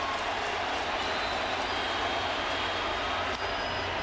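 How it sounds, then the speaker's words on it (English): Loud, steady roar of a big crowd at a New York Mets baseball game, a dense wall of cheering noise that holds for the whole stretch with no break. "Big crowd getting loud."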